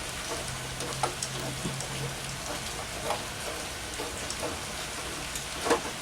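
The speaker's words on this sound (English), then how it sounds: "It's just now raining." Steady rain falls outside a shop, a soft continuous hiss of drops with occasional louder splats and drips, fairly faint and even throughout, with no voices.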